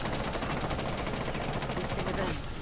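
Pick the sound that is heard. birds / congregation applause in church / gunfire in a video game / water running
gunfire in a video game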